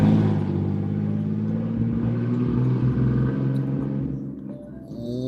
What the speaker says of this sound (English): Loud as hell because it doesn't have a muffler on it.